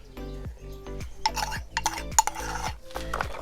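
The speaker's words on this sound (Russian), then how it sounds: "Теперь это все перемешиваем." A big spoon stirs sugar, salt and yeast starter for a salmon and cabbage pie dough, giving repeated scraping clinks against the bowl in a steady rhythm, close and fairly loud, with no talking.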